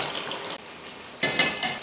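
Biryani boiling hard on a high flame, a close, steady bubbling and sizzling with a brief dip partway through.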